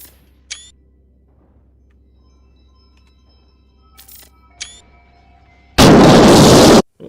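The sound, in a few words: explosions from drones fighting in No Man's Sky video game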